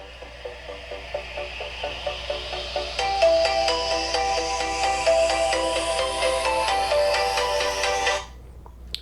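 A melodic ringtone plays loudly through the Meizu MX5 phone's loudspeaker for about eight seconds, a repeating chiming tune over a faint electrical hum, then cuts off abruptly.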